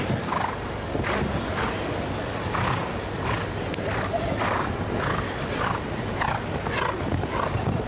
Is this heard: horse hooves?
yes